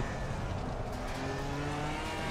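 A BMW M4 GT4 race car's engine drones loud and steady on a Nordschleife hotlap in a racing simulation, the pitch dropping and shifting as it changes into third gear, with no voices over it.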